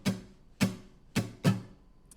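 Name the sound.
muted acoustic guitar strumming pattern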